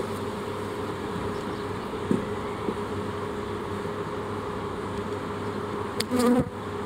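Light-coloured honey bees at an open hive make a dense, continuous buzzing drone throughout, steady and close, with a couple of brief knocks and a short rustle near the end.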